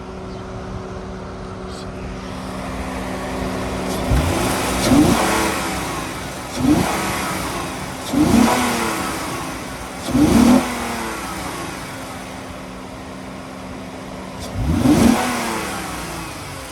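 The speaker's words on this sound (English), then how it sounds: "I'm gonna give it a little more RPMs here so you can hear it a little better" A 2008 Honda Ridgeline RTS pickup engine with 126,000 miles and a fresh timing belt idles steadily, then revs up five times in separate bursts, each rising and falling back, loud and close.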